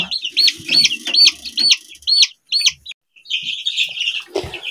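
Baby chicks fourteen days into brooding on a farm chirp loudly and close by in rapid, repeated high peeping bursts, with a brief pause and some rustling and a thump toward the end.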